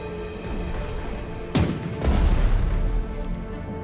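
Artillery in a World War 2 turn-based strategy game set in the Pacific: a sharp blast at mid-clip followed by a deep, rumbling boom that rolls on to the end.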